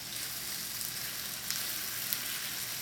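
Cauliflower and heavy cream sauce stirred in a pan, a steady soft sizzling hiss throughout with faint scrapes, no voices.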